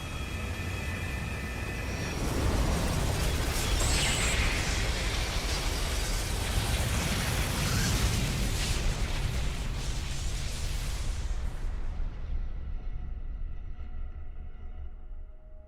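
A fiery bomb explodes in a video game battle, a long, loud roaring blast that swells after a couple of seconds, rumbles heavily for several seconds, then slowly fades with its high end cut off.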